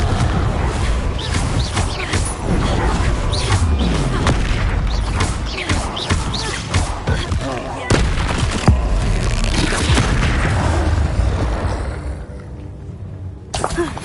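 A Confringo fire spell in Hogwarts Legacy on PS5 unleashes a loud, continuous barrage of booming explosions and crackling blasts that fill the whole stretch, thinning slightly near the end.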